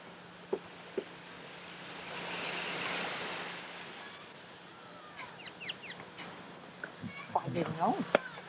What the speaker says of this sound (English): It's into the ocean, Carol?